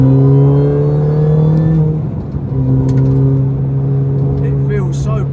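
Mini Cooper S R53 with a Milltek exhaust pulling hard in third gear around a 90-degree bend, a loud droning engine note that climbs, dips at a shift and rises again, heard from inside the car.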